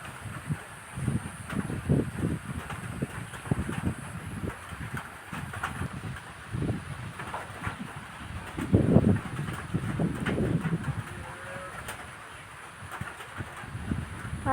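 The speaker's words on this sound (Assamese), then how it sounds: "তাতে আৰু বতাহ মাৰি আছে" Wind blows across open green fields on Majuli island, coming as uneven low gusts that buffet the microphone, rising and falling over a quiet outdoor background.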